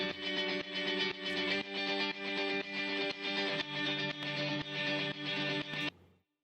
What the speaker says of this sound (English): So let me just play the rhythm guitar here, and you can see this pumping again.